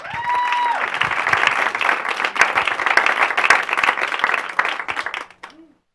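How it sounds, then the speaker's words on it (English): A conference audience bursts into applause, dense clapping rising quickly after a brief tone and holding steady before fading out near the end. "Let's have a round of applause for Andrea Nakayama."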